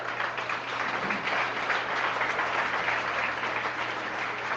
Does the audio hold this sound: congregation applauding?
yes